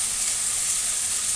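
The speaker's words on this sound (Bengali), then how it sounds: "কাঁচা স্মেলটা না যাওয়া পর্যন্ত এভাবে কিছুক্ষণ কষিয়ে নেব।" Spice masala for potato dum sizzles steadily in a hot pan, a constant bright frying hiss with no voices over it.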